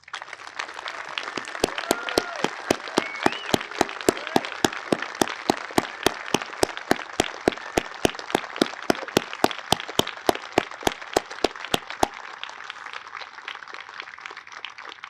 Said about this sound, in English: please rise and join me in a round of applause for Major General retired Bret Daugherty.